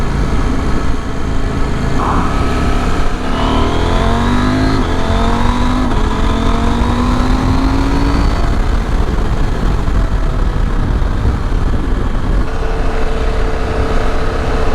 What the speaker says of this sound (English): because it's a 800cc bike, when you need a bit of acceleration, you've got it